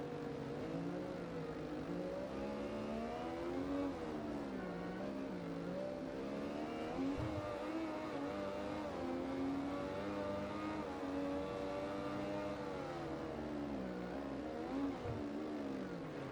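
Motorcycle engine in the racing video game Ride 2, a steady high droning whine with rising and falling pitch as the bike accelerates through corners, loud and continuous without talk.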